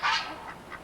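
Geese honking and ducks quacking on a small Arkansas farm that also keeps chickens and chicks, one loud close honk followed by two fainter calls.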